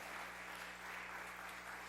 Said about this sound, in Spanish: Denle un fuerte aplauso a los muchachos